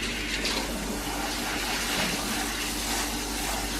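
Basmati rice is washed under running water, a steady close gush of flowing water that continues without a break.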